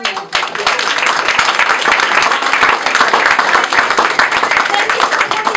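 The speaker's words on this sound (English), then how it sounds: "So I'd like to give you all a round of applause for you." Audience at a photography show reception clapping steadily, a dense, even round of applause from a roomful of people that continues throughout.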